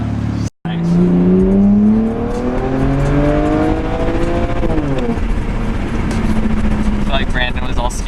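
A BMW 335i's engine revs up under acceleration, its droning tone climbing steadily in pitch, then dropping and holding a lower hum, loud and close with a brief dropout near the start.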